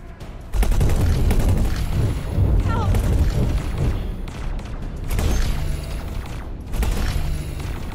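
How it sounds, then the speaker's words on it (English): Ship turrets in the X4: Foundations space game fire a steady barrage of deep, booming shots with mechanical rumble, continuous and loud across the whole stretch, with a voice talking over it. "Oh, my turrets are shooting at rocks, probably."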